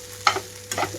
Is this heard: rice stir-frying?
yes